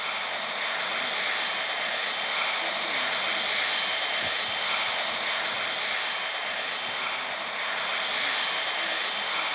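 An airplane engine in the video game Flight Simulator 2018 drones steadily and loudly throughout, a constant unbroken hum with no talking.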